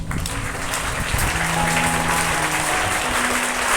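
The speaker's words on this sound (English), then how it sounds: "Let us appreciate their effort with a warm round of applause." A school assembly audience claps in steady, dense applause that stays loud and even throughout, with no voices standing out over it.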